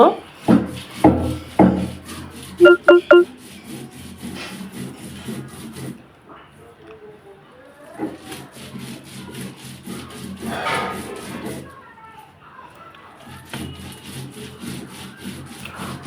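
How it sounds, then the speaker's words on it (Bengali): Chilies and garlic being ground finely into a paste for a small-fish-head bhorta: loud rhythmic rasping strokes, a quick burst of scrapes at first, then steadier rubbing with brief pauses, close by. "আমি মরিচ, রসুনগুলো ভালোভাবে মিহি করে বেটে নিব।"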